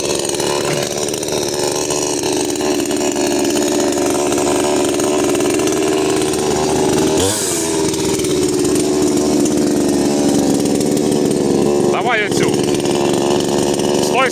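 A Dnipro-M chainsaw running steadily up close, its engine droning loud and even with a couple of brief revs, while a voice talks over it.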